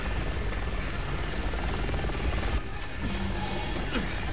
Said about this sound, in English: We can drop that chopper from here.